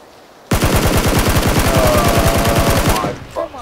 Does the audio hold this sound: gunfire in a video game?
yes